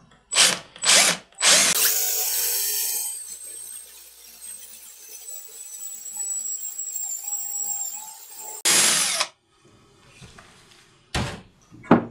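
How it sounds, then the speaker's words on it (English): A power drill bores a hole into wood, starting from a pilot hole, while making a router plane chisel. The motor whines steadily for several seconds between sharp bursts of handling and scraping noise. "start the drill, I already made a little pilot hole just to make it easier to get started"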